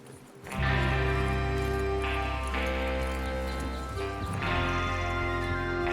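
Horse hooves clop steadily in the Red Dead Redemption 2 video game as riders set out, the rhythmic footfalls blended under a sustained, loud musical score with no talking.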